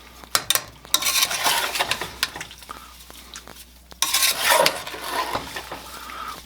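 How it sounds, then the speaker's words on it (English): A big spoon stirs and folds cherries with lemon juice in a pot over medium heat, with wet scraping and clinking strokes in uneven bursts, close and moderately loud, with no talking. "Got my big spoon here, and we're just going to fold these together."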